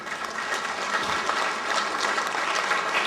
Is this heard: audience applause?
yes